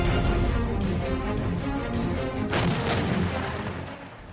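Artillery fire and gunship helicopters during a military operation against the Taliban in Buner, Pakistan: a continuous low rumbling barrage with a sharp crack and blast near the middle, then fading slightly, and no voices.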